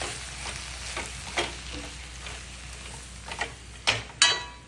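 Masala with coriander powder sautéing in oil alongside onions and tomatoes, a steady close sizzle with a few sharp clicks and utensil knocks near the end, no speech.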